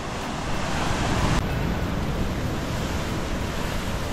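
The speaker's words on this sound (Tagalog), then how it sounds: "Lakas ng alon." Strong ocean surf at Patar Beach in Bolinao, Pangasinan roars continuously as a dense, loud wash of crashing water, mixed with heavy wind buffeting the microphone. No voices are heard.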